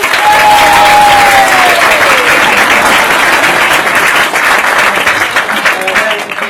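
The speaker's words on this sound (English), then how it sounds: "can return to your seats to thunderous applause!" Loud, sustained applause from a seated audience at a mentalism parlour show fills the whole stretch, with a brief whistle-like tone early on and some crowd noise mixed in.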